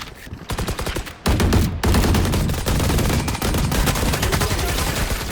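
Rapid automatic gunfire from the video game Valorant, dense bursts of shots in quick succession running almost continuously and loud throughout, with brief gaps between volleys during a tournament match.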